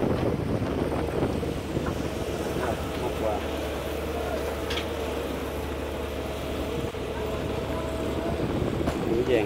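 A large Fiat 1300 or Belarus tractor hauling cassava up a high bank at Dau Tieng lake in Tay Ninh, its engine a continuous low droning rumble mixed with wind buffeting the microphone.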